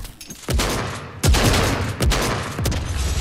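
Gunfire in the video game Fortnite: several loud, booming shots at irregular intervals over a noisy, rumbling game backdrop.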